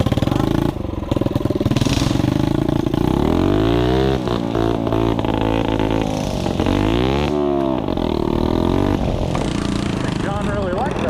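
Worn-out pit bike engine revving and running, a loud, close buzzing rasp that rises and falls in pitch repeatedly as the throttle blips, with a voice briefly audible over it.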